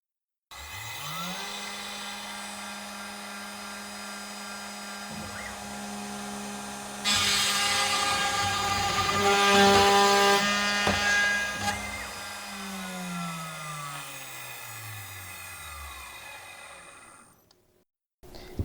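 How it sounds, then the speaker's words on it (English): A CNC router spindle whines up and cuts a keyhole slot, a steady high tonal drone with pitch sweeps as it starts and winds down, a louder grinding stretch mid-cut, and no talk. "We can now bring the cutter in to roughly over the X and run the file."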